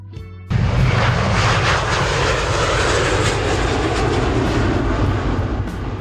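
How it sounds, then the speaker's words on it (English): Engines of an Embraer KC-390 Millennium, a Brazilian military transport aircraft, roar loud and close, kicking in abruptly and holding a dense, steady rumble to the end. "KC-390 Millennium, a Brazilian military transport aircraft designed to compete with the Lockheed C-130 Hercules"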